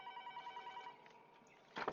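A telephone rings in a home, a steady electronic trilling tone pulsing evenly, moderately faint, which stops before a short rustle.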